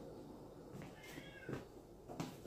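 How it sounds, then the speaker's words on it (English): A house cat meows faintly at home late at night, a few soft, separate cries over quiet room noise with no talking. "Fat cat, be quiet."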